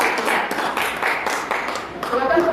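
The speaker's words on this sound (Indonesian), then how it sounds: "tepuk tangan dulu untuk kelompok 1" A school class claps for a student presentation group, loose rhythmic hand claps close by in a classroom, with voices talking over the clapping toward the end.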